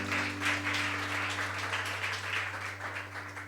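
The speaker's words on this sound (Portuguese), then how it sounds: "Você pode dar um aplauso ao Senhor?" Faint, steady applause from a church congregation fills the space throughout, a soft wash of many hands clapping at a distance over a low constant hum.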